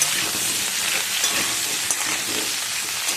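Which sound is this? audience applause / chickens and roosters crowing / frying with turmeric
frying with turmeric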